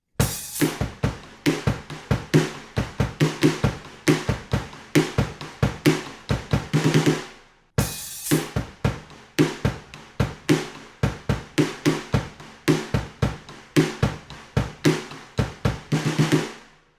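A drum kit plays a steady groove of sharp snare rim clicks over kick drum, a repeated pattern that stops briefly midway and then runs again, loud and close with no talking.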